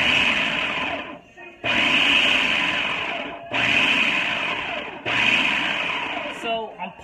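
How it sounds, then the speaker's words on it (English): Food processor pulsing walnuts, mushrooms, peppers and onions, with four loud grinding bursts of one to two seconds separated by brief pauses, close by, with a voice faintly present. "So I'm pulsing because I don't want it to be liquid walnut"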